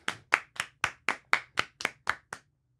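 Ten sharp hand claps in a steady, evenly spaced rhythm, close and crisp, ending abruptly with no talking.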